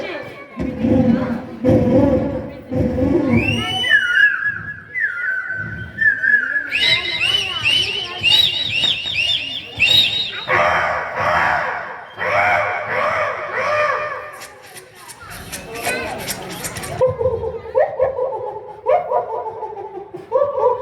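A voice imitates birds and a rooster crowing, giving a run of whistled chirps, warbles and a long crow-like call against crowd noise and cheering.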